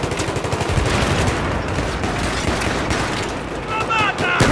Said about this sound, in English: I see a lot of shooting going on back here